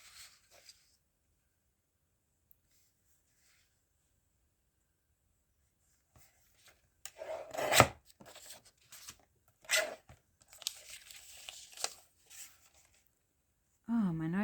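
Cardboard from a folded divider being cut with scissors to form a pocket, a few crisp snipping and tearing bursts, close and fairly quiet, separated by pauses, after a stretch of near silence.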